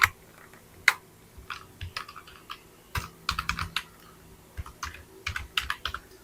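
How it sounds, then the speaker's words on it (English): Company name typed on a computer keyboard while filling in a business management web form: close, irregular bursts of crisp keystrokes with short pauses, no voices. "I'm just gonna type in the create company."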